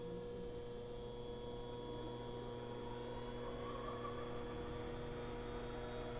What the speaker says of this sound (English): Now you hit your forward. Oh, there we go.